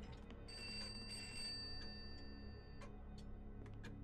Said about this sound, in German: Oder klingeln einfach jetzt alle Telefone wild durcheinander?